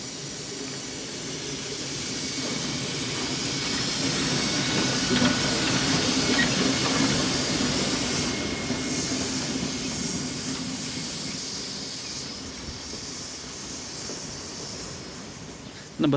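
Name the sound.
Slovenian locomotive shunting Austrian locomotive through station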